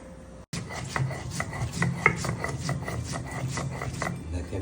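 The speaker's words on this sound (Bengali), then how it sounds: "দেখেন শিলপাটার ভর্তা বানানো হচ্ছে।" Fish and dried fish paste being ground by hand on a traditional sil pata grinding stone, giving steady rhythmic scraping and rubbing strokes, close and fairly loud, with no talking.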